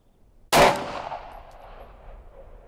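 Single sharp pistol shot from a Glock 19 with a Holosun 507c red dot sight at a shooting range, a loud close crack followed by a fading ringing tail and quiet background.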